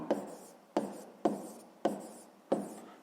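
Pen writing out a sixth-grade math solution on paper, five distinct strokes in a steady rhythm, each a short scratchy stroke fading out, close and quiet with no talk.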